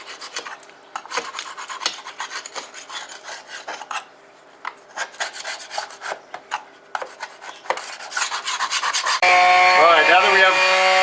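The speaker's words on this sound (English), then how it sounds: "let's just kind of go through here and scrape off the big chunks" Loose paint being scraped off a wooden door jamb with a hand scraper, a series of short rasping strokes at close range, some quick and bunched, others spaced apart, with a louder steady noise and a tonal hum near the end.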